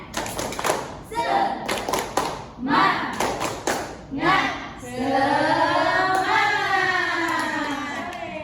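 A class of schoolchildren performs the rhythmic Indonesian 'tepuk semangat' spirit clap: short bursts of sharp, patterned group claps separated by pauses, followed by the children chanting together loudly in unison.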